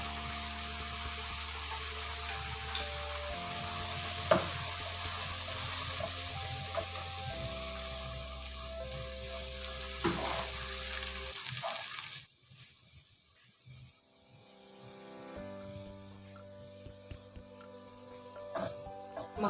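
Spice paste of garam masala and ground coriander fries in a pan with a steady, close sizzle, which suddenly drops to a quieter, sparser crackle partway through.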